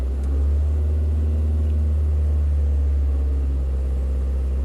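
A Chevy Captiva with a swapped direct-injection engine revving up from idle, a strong low droning engine note held steady and close, alone without talk.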